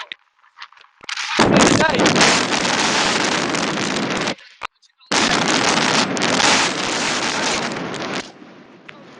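Wind buffets the microphone outdoors during a run, two long, loud roaring blasts separated by a short lull, with quieter air before and after.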